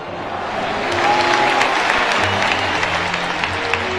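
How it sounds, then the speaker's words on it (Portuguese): Crowd at a memorial gathering for air-disaster victims applauds steadily, a dense sustained wash of clapping from many hands that swells slightly and holds for the whole stretch. "todos pudessem dar uma salva de palmas àqueles irmãos que se foram"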